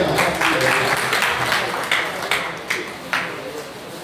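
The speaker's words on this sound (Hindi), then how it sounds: "सभी ताली बजा के स्वागत करें।" An audience at a district education conference closing ceremony in Udaipur, Rajasthan claps steadily to welcome a guest, a dense continuous patter of hands lasting several seconds at moderate volume, with a few sharper individual claps standing out near the end.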